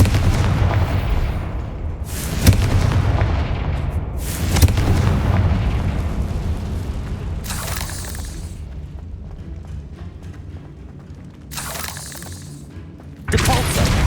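Booming fire spell blasts from Hogwarts Legacy crash out several times with deep rumbling tails, spaced unevenly amid a dense roar of combat, loud and close with no speech over them.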